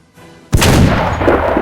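A single old musket firing in a video game mod: a sudden heavy boom after a quiet moment, followed by a long, rumbling echoing tail that stays loud for over a second.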